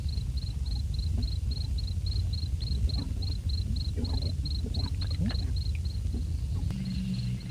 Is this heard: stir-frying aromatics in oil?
no